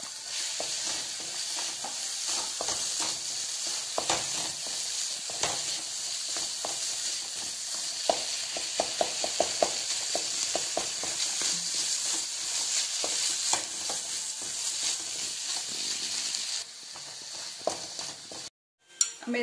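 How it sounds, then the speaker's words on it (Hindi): Mashed paneer sizzles and fries in a pan for paneer bhurji while a spoon stirs it. The hiss is steady and close, with frequent spoon taps and scrapes against the pan, then a brief quiet near the end. "अब मैं इसमें पनीर डाल दूंगी, जो मैंने पनीर को अपने हाथ से ही मैश किया है।"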